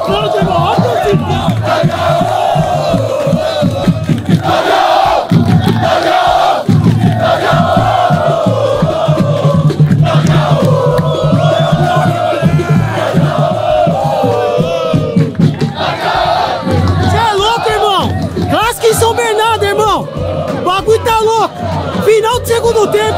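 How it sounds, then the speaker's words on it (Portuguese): Football fans at an amateur neighborhood match between Jardim Claudia and Vila São José roar, chant and shout continuously as a loud, dense crowd, with an excited commentator talking over them. "E a torcida vem junto, irmão."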